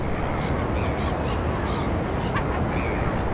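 Gulls on a seabird island shriek and call in a steady chorus, several harsh cries rising over constant windy outdoor noise, fairly loud and continuous.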